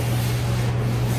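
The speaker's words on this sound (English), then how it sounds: "What I'm doing right now is just taking 320 and sanding this gel coat" Hand sanding of a fiberglass 32 coupe body's gel coat with 320 grit sandpaper, a steady close rubbing hiss that runs continuously without pause.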